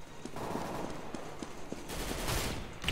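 Rapid bursts of submachine-gun fire in Counter-Strike: Global Offensive, a dense spray of shots repeating quickly and close up, with a few scattered single reports and footstep-like thuds.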